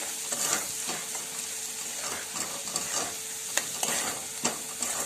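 Red chili chutney is stirred with a spoon in a pan, producing soft sizzling and irregular scraping clicks at a moderate, fairly quiet level, with no talking.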